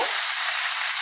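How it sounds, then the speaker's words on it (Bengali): Vegetables fry in a pan for a rohu fish curry with potato and greens. A dense, even hiss of hot oil runs loud and close for about a second, with no talking. "সবজিগুলো আমি ভাজা ভাজা করে নিয়েছি, এবার দিয়ে দেবো"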